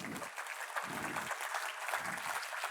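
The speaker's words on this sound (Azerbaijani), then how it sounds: "Komanda 1 hamı eyni zamanda alqışlamağa başlayır." An audience team claps together in unison at a live event, sustained and fairly loud, with the steady clapping running alone and unbroken throughout.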